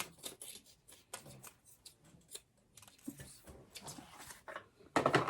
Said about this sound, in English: So I'm going to trim my extra zipper piece off.